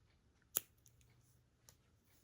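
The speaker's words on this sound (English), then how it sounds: "we're going to just cut our yarn" Scissors cut through knitting yarn with one sharp, close snip, followed by a fainter second click a moment later in an otherwise quiet room.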